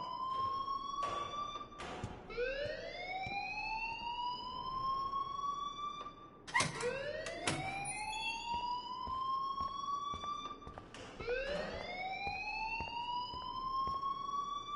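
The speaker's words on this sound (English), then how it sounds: "please turn off that alarm since that's your job" A fire alarm wails in the video game Life is Strange, repeating rising-and-falling siren sweeps with sharp electronic bursts between them, steady and fairly loud with no talk.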